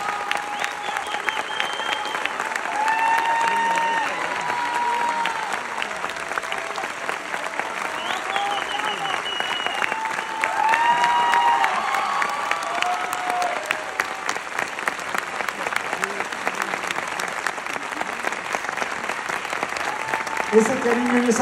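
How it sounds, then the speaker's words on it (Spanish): A theatre audience at the final show of a touring play applauds the actresses Lola Cortés and Andere with sustained, dense clapping, and an amplified voice speaks over it. "Que se escuche fuerte ese aplauso para ellas."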